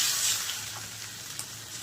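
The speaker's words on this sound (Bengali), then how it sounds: "এবার আমি জল দিচ্ছি পরিমাণ মতন" Water poured into a pan of frying egg, potato and prawn curry gives a soft hissing sizzle that is strongest at first and then fades to a quiet simmer.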